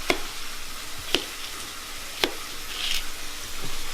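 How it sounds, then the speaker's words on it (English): Sliced potatoes sizzle in a hot pan with a steady, close, hissing fry, broken by a few sharp pops and crackles spaced about a second apart. "I'm gonna throw these in a hot pan."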